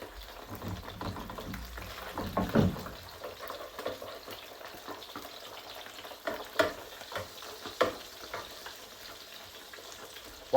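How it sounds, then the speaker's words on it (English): Fish fries in oil with melting garlic and herb butter, a steady close sizzle and crackle with brief louder spits and stirring clatters, no talk. "Once that butter is melted into the oil, you can start basting the fish."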